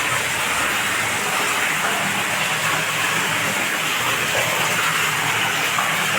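Borewell drilling machine working in a village well with water gushing out, a loud, dense, unbroken roar filling the whole stretch up close.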